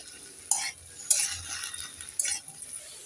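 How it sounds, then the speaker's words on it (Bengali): Chopped spring onion stalks are stirred in a pan with fried vegetables: three or four distinct scraping, clinking strokes of a spatula over a faint low sizzle. "এবার আমি দিয়ে দেব কেটে রাখা পেঁয়াজ কলি একটু নেড়ে চেড়ে দিয়ে দেবো"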